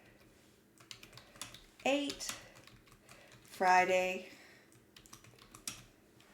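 Keystrokes on a computer keyboard tapping in short irregular bursts as someone enters figures, with spoken words breaking in between the clicks.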